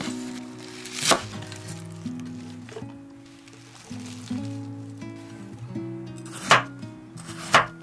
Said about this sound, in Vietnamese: Rau ăn kèm thì mình có hẹ nè, cắt khúc ra như vậy.